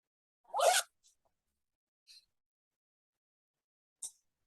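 A zipper on a handmade pouch gives one quick rasping pull, followed by a couple of faint small ticks and clicks in an otherwise silent room.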